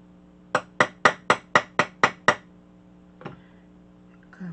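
A small hammer strikes a metal label laid on an old foam mouse pad, eight crisp evenly spaced taps in quick succession, close and clear, followed by a fainter knock and a soft clatter.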